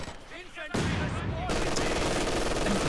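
An MG42 machine gun fires in a World War II shooter game, sustained loud bursts of rapid automatic fire that kick in after a moment of quieter sound and continue to the end.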